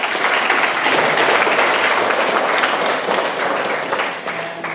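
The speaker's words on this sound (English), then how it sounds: "give Evan a round of applause" Sustained applause from an audience at a Silver Star award ceremony, a steady dense wash of clapping from many hands, fairly loud and continuous with no speech over it.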